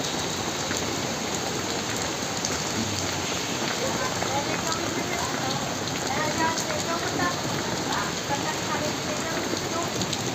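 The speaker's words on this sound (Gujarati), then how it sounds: "ચલો ત્યારે વરસાદને બધા કેવો પડે છે જો" Steady rain pouring down continuously at night, a dense hiss of drops hitting surfaces nearby, with no let-up across the whole stretch.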